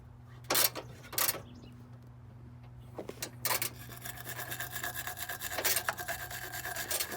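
Scraping and rasping on a corroded electrical ground of a 1987 Chevy square body truck, starting as a few separate strokes and becoming continuous, steady rubbing over a low background hum.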